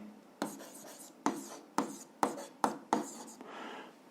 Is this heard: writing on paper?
yes